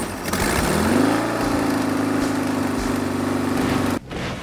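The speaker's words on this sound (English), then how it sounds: "I like to hear that engine." A street rod engine idles steadily nearby with a low, even rumble, then cuts off abruptly near the end.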